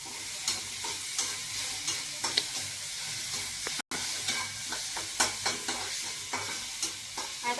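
Bell peppers with salt being sautéed in a pan, a loud steady sizzle broken by regular rhythmic stirring scrapes and taps of the spatula, close by, with a brief dropout midway.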